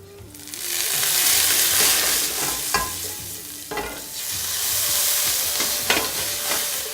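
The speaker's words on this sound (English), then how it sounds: "All we have to do now is do a quick stir fry of carrots with our coriander seeds" Carrots with coriander seeds being stir-fried in a hot pan, a steady broadband sizzle punctuated by a few sharp scrapes and clacks of the utensil stirring, close and fairly loud with no voices.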